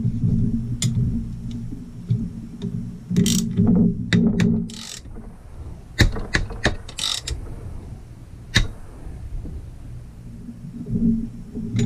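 A bearing being screwed down by hand onto the crankshaft of a Stihl MS440 chainsaw, with irregular metallic clicks, ratchet-like ticks and brief scrapes, close and fairly loud, with pauses between bursts.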